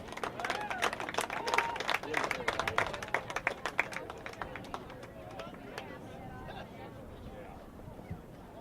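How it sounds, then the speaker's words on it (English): A crowd applauds at a boys' lacrosse team event honoring players and their families, loud dense clapping that thins into scattered claps and fades out, with murmured voices underneath. "Please give a nice round of applause for Andrew Crow."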